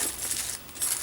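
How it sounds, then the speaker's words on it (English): Crinkling plastic wrap being pulled off a Dooney and Bourke Florentine teal handbag with a braided zipper pull and green suede tassels, a steady close, bright rustle with a brief lull midway. "let me get this plastic off here"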